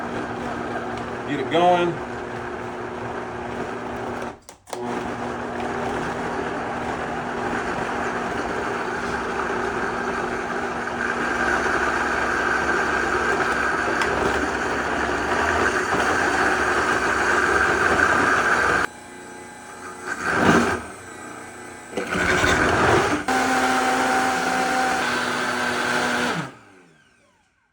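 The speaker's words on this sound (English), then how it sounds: "This is a Vitamix. This thing is pretty powerful." A powerful Vitamix blender whirs through birria chili paste, starting at a lower speed and then running loud and steady on high for a long stretch, with brief pauses and restarts near the end, while a person talks over it.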